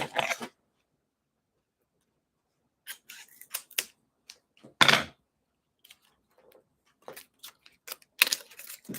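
A handful of sharp snips and clicks close by, arriving in short irregular bursts separated by quiet pauses.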